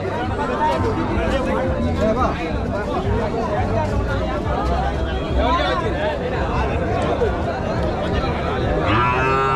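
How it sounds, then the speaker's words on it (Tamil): Calves mooing repeatedly amid a noisy crowd, with loud babble and people talking throughout at the busy Matrapalli cattle market in Tirupattur, Tamil Nadu. "கண்ணுக்குட்டிங்களாம் நல்ல அழகான கண்ணுக்குட்டிங்களாம் இன்றைக்கி வந்துருக்குது."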